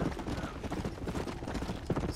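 Horse hooves clip-clopping in Red Dead Redemption: Undead Nightmare, a quick, steady run of muffled thuds from a galloping mount, fairly close, with faint game ambience and no talk.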